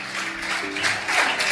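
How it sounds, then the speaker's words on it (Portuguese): Church congregation clapping for the Lord: dense, steady applause from many hands filling the room, loud and sustained, with faint voices mixed in. "Aplauda ao Senhor bem forte, em nome de Jesus"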